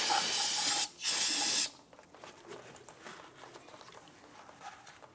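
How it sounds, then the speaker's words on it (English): Solvent cleaner sprayed onto car brake parts in two close, loud hissing bursts with a brief pause between them, followed by faint dripping and quiet handling noises. "Go ahead and take a spray solvent. We want to go ahead and clean this."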